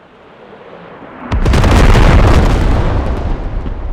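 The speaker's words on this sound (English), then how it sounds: "Artillery." Artillery fire in the video game Squad: after a quiet, low rumbling lead-in, a sudden heavy explosion bursts in and rolls on as a loud, sustained roaring blast that slowly decays.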